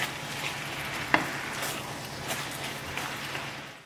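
Beef stir-fry with pak choi and oyster sauce being stirred in a hot pan, a steady soft sizzle with faint scraping and one brief sharp clack of the utensil, close and alone without talk.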